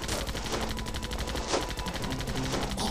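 Rapid, sustained gunfire in the Zombie Panic in Wonderland video game as a beaver is shot, loud continuous bursts of automatic fire filling the whole stretch without a break.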